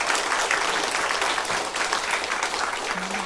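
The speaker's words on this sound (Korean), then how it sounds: "저희 박수로 감사하겠습니다." Steady, loud applause fills a church worship service on the last Sunday of the year, continuous clapping from a congregation lasting throughout.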